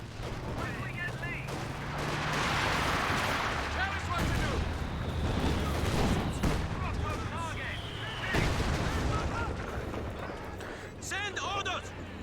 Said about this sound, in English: Oh, but the light barrages do come in.